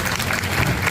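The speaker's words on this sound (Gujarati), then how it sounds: "સૌથી પહેલી તાળીઓ DSCT માટે પડવી જોઈએ" A hall audience at a charitable trust's educational awards ceremony in Kapadvanj gives a brief burst of dense, even clapping in honour of the trust, loud and continuous with no voices over it.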